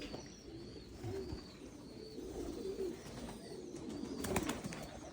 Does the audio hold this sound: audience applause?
no